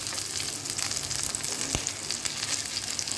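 Mutton tava fry sizzles on a griddle over low flame with a dense, even crackling hiss throughout, broken once by a single sharp tap, close and steady.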